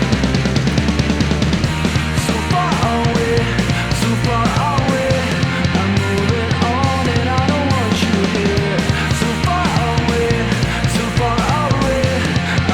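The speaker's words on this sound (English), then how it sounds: "we were doing a punk rock demo using only Ableton plugins and Ableton sounds" A punk rock demo built entirely from Ableton Live plugins and stock sounds plays as a full band mix, with driving drums, dense guitars and bass, and a sung vocal running loud and steady throughout.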